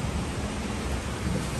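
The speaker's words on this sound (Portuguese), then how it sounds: "Tá chovendo." Steady, broadband rain falling outdoors near a beach, a dense continuous hiss with no gaps, loud and close.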